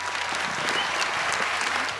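A crowd at a 2011 graduation ceremony breaks into sustained applause, a thick, even roar of many clapping hands that holds at full strength for the whole stretch.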